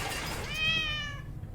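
A single drawn-out cat meow in the horror video game Summer of 58, clear and fairly close, rising and then fading over quiet background noise.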